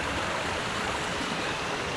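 Steady roaring rush of a waterfall, loud and close, filling the whole clip with dense broadband noise.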